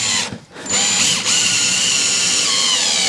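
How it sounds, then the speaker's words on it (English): A power drill drives screws into a shed roof, giving a loud, close whirring buzz that stops briefly, then restarts and runs steadily with a slight change in pitch. "Gonna make sure I put plenty of screws in this bit,"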